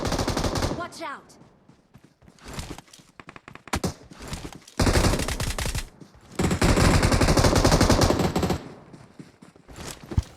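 Gunfire from an S12 shotgun and a pistol in the video game PUBG, loud bursts of shots in clusters separated by quieter gaps, with brief footsteps between them.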